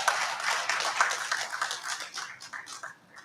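A short burst of hand clapping from a small audience at an electricity symposium, brisk and scattered, fading slightly toward the end.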